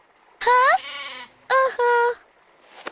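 Two loud goat bleats from a cartoon farm scene, each a wavering cry with a shorter tail, separated by a brief pause, followed by a faint breathy sound at the end.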